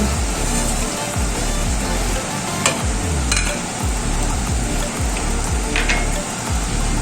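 Chicken for chicken manchurian fries in hot oil with a steady, close sizzle and bubbling crackle, broken by a few sharp clinks as it is stirred.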